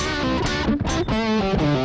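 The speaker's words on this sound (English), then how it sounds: "and also the distortion channel" An electric guitar played through an amp's distortion channel rings out in sustained, gritty, overdriven notes, a few held pitches bending and shifting with a rock tone, loud and close with no talk.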